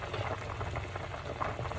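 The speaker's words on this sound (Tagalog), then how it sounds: "kumukulo na uli ang ating isda" Fish soup boils in a covered pot, a steady dense bubbling and hissing simmer heard up close and alone.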